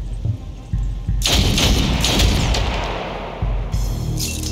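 Gunfire in the turn-based video game Othercide: a loud booming shot bursts in and rings out with a crackling, explosive tail, followed by a second heavy report near the end, with no speech over it.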